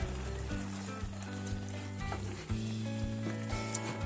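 A yogurt curry bubbles and sizzles steadily in a pan, a close, continuous simmer with a low tonal hum running underneath and a few soft shifts as it cooks.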